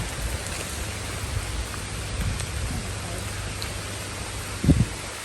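Steady rain falls on surfaces near a treehouse hotel pool in Sisaket, a constant even hiss with a short louder patter near the end.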